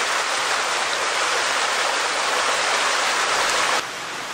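Woodland stream spilling over small waterfalls into little pools on a spring morning, a steady close rush of broadband water noise, loud and unbroken, with the level dropping slightly near the end.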